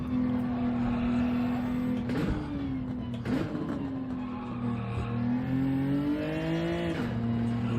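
A Gran Turismo 7 race car on the Nürburgring holds a steady, loud engine drone, with pitch dips and sharp shifts around gear changes and braking, close and continuous with no talk.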